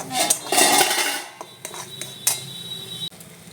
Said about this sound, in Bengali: যতক্ষণ না এই পাতার যে রসটা আছে শুকোচ্ছে ততক্ষণ আমি কড়াইতে নেড়ে যাব